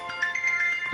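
A phone alarm ringtone plays a brief steady electronic tone, fairly clear in a quiet room.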